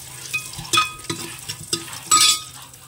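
Onions, garlic and cumin frying in a pan for a mushroom curry, giving a steady sizzle broken by several louder scraping stirs, close and with no voices.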